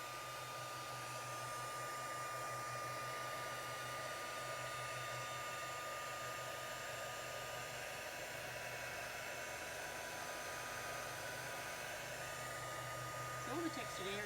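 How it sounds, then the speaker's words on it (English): A heat gun blows steadily for about fourteen seconds while drying craft oxide and texture paste on a stencilled card, a constant whining whoosh with a faint hum underneath and no talking. "now I'm just going to hit it with the heat gun"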